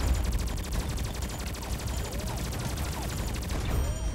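Automatic weapon fire in the XSHOT Magic Universe shooter game: a rapid, evenly spaced stream of shots that runs continuously and loudly through the whole stretch, with a few whooshing effects mixed in.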